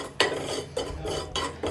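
Black cumin seeds being lightly dry-roasted in a pan are stirred with a metal spoon, making three or four quick, close scraping strokes with a soft rustle of seeds between them.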